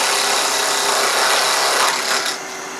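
A wood lathe spins a piece while a tool shapes a gentle, rounded taper, giving a steady, loud whirring hiss with a slight scraping texture that eases off near the end.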